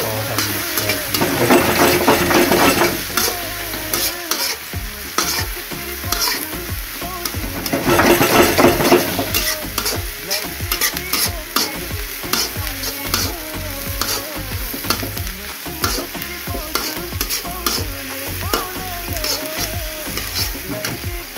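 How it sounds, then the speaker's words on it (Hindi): Cabbage filling for spring rolls is stirred and tossed in a hot pan, giving a steady sizzle with repeated scraping strokes, louder in bursts near the start and around the eight-second mark. "अब दोनों को सबको मिक्स करते हैं, तो पकड़ते हैं पकड़ के, और हम मिक्स करते हैं"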